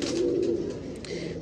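A golden pigeon coos close by, a soft low throaty call lasting about a second, with quiet background hum.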